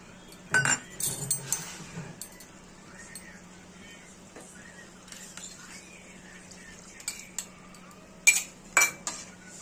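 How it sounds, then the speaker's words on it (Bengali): A teaspoon of flour is stirred into a little milk to thicken fish gravy for Khirod Katla, giving a few quiet spoon clinks against the bowl near the start and again near the end, with long soft gaps between. "এই দুধের মধ্যে এখানে আমরা 1 চা চামচ আমরা এখানে ময়দা দিয়ে গুলে দিয়ে দেব"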